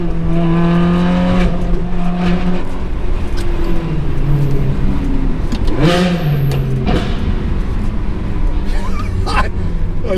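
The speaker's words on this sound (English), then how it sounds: "I sometimes forget how loud my car is until I'm in a city" A loud car engine echoing between city buildings, a steady rumble with rising and falling revs and a sharp surge of acceleration midway, close and dominant, with a person talking over it.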